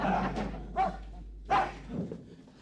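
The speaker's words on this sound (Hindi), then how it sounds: "ये पांडे का कुत्ता अपने आप को समझता क्या है?" A dog barks a few times in a sitcom setting, with two or three sharp, fairly loud barks spaced across the moment and no talk over them.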